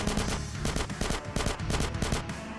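Rapid bursts of gunfire in a GTA San Andreas shootout, a run of sharp repeated shots at steady rhythm over a busy game soundscape, loud and close with no talk.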